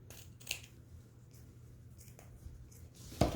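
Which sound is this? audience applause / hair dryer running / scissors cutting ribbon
scissors cutting ribbon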